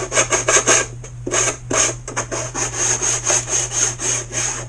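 A wooden bulkhead edge on an RBC Kits Moon Glow build is chamfered by hand. Quick, close, rhythmic rasping strokes repeat steadily over a low steady hum.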